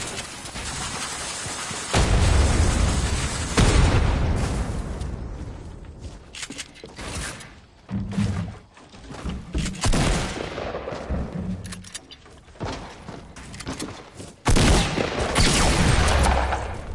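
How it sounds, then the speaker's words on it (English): RPG and quad launcher blasts mixed with rapid gunfire in a multiplayer shooter match, loud bursts and volleys repeating throughout with brief lulls between heavy explosive hits. "He's literally only shooting his RPG or his quad launcher."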